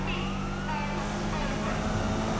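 A police car siren wails through a chase in the racing game Need for Speed 2015, its warbling tone steady beneath engine noise and someone talking over it.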